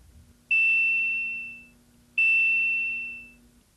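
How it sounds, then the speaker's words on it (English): A medical apheresis system at a blood transfusion institute sounds its system-shutdown alarm: two identical bright electronic chimes, each sustained about a second and fading out, spaced roughly 1.7 seconds apart, loud and clear with no talk. "Because system shutdown alarms require your immediate attention, they are indicated by a distinctive chime alarm"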